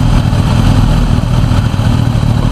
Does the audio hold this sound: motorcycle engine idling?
yes